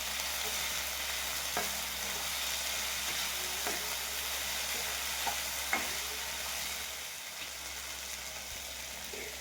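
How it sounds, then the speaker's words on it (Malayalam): Chopped ivy gourd stir-frying in oil in a hot pan gives a steady, close sizzle, with occasional sharp scraping clicks from a spatula stirring through it. "പാൻ ചൂടായി വരുമ്പോൾ ആവശ്യത്തിന് എണ്ണ ഒഴിച്ച് അതിലേക്ക് കോവയ്ക്ക അരിഞ്ഞ് ഇട്ട് കൊടുത്ത് ഇളക്കി കൊടുക്കാം."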